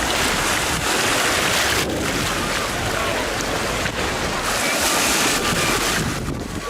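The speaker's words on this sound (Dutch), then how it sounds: "En hier is de zee." Sea surf rolls continuously near a Tuscan harbor, with a broad, steady wash of waves mixed with strong wind buffeting the microphone.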